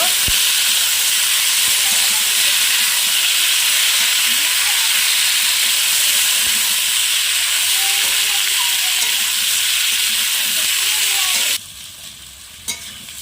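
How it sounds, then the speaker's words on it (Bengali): Papaya and potato pieces frying in oil in a pan, a loud, steady, close hiss of sizzling that runs unbroken for most of the time before suddenly dropping to a softer crackle near the end. "দিয়ে আমি ভালোভাবে একটু ভেজে নেব"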